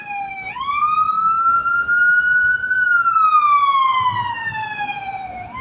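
A loud, close ambulance siren in Houston holds a steady rising and falling wail for several seconds, with faint traffic rumble beneath.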